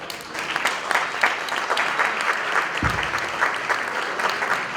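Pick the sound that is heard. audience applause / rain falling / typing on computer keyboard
audience applause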